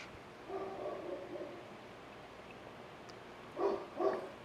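A dog barks faintly a short way off, a few soft yips early, then two clearer barks near the end over a quiet indoor background.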